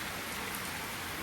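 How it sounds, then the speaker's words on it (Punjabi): Rain falls steadily outdoors on a Punjab farm, a faint, even patter of drops on surfaces with no voices. "ਮੀਂਹ ਆ ਗਿਆ ਜੀ"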